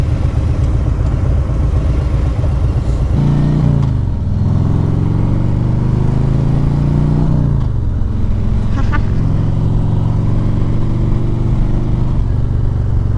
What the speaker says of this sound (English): the acceleration on this thing, holy. Now I only twisted the throttle slightly